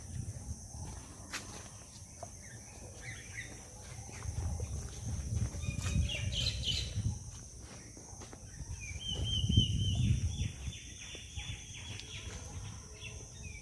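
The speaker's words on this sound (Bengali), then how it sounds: "কত রকম পাখির আওয়াজ পাওয়া যাচ্ছে" Various birds calling outdoors among old trees, heard as faint scattered chirps and a longer thin whistling call near the end, set over a low outdoor rumble with occasional footsteps or shuffling.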